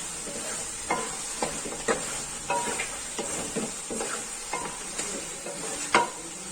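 Mutton karahi fries with spices in a pan, giving a steady soft sizzle broken by regular scraping strokes of a spoon stirring the meat every second or so.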